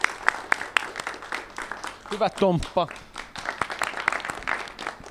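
Scattered applause from a small group, with claps ringing out irregularly while a voice cheers over them.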